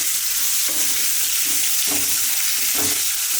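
Washed cauliflower fries loudly in a pan with curry leaves and browned onion, a constant close sizzle with a few spatula stirs scraping through it.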